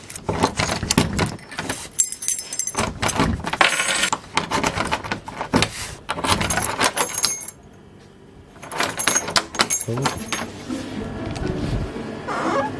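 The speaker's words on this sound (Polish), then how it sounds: "znalazłem trochę klucze, może które będą działać" Keys jangling in a convenience store at night, a series of loud, close metallic rattles and clinks in irregular bursts, with a brief quiet pause midway before more jingling resumes.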